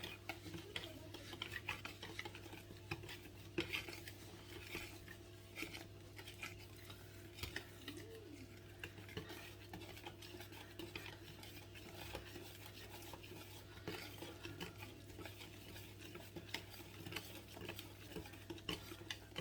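Yogurt coconut cake batter with orange extract is stirred in a bowl, a very faint, continuous soft scraping and patter with small ticks over a low steady hum, no talking.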